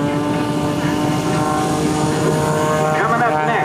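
A propeller airplane flies a double hammerhead at the 2008 AirPower Over Hampton Roads air show, its engine a loud, steady drone that shifts in pitch as it maneuvers.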